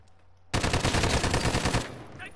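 A sustained burst of rapid light machine gun fire in Modern Warfare 2, loud and close, with dense, even shots running for over a second before tailing off into a fainter echoing decay.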